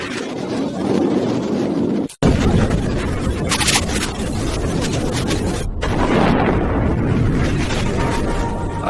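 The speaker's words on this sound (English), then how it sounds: "When the first charge fired, the desert lifted." Firework charges blast over desert sand in a sand-sculpture fireworks show, a heavy rumbling boom with churning, crackling debris that runs on for several seconds, briefly cut off twice, loud and close with no talking.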